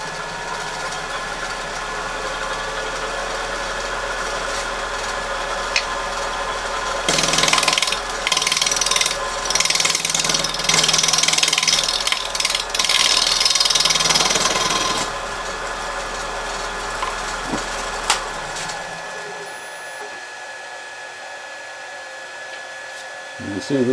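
Wood lathe spinning up an out-of-balance bowl blank cut from a log section, a steady motor drone with a louder rattling, thumping stretch in the middle before it winds down to near silence.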